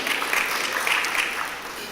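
Audience round of applause at a diaspora investment forum in Jamaica, a dense, even patter of many hands clapping that holds steady for the whole stretch.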